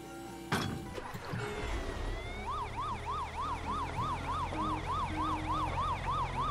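Ambulance siren in the Poly Bridge 2 video game, a loud two-tone electronic wail cycling steadily and rapidly after a sharp impact thump, with vehicle rumble underneath and no talking.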